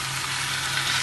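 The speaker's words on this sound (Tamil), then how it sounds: "அப்புறம் இந்த நெத்திலியை இதில் போட்டுக்குவோம்." Anchovies frying in a pan with curry leaves, a loud, dense hiss of hot oil, continuous and close for the whole brief moment.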